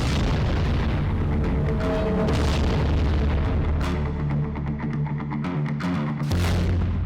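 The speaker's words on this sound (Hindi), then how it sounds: "ईरान के बैलिस्टिक मिसाइल हमलों से दहल उठा बेरशेवा" Iranian ballistic missiles strike Beersheba, heard as a run of deep booms and rumbling blasts that roll one into another, with sharp cracks and bursts near the end.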